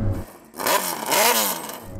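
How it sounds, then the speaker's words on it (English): A turbocharged Hayabusa motorcycle engine revs up hard twice, a deep growling roar rising and falling in pitch, loud and close. "Go on, Chris, can you rev up your bike? Can we have a listen to it?"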